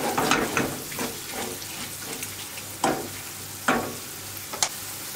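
Rice frying in oil with salt for a chicken rice salad, a steady close sizzle punctuated by several sharp stirring scrapes at irregular intervals.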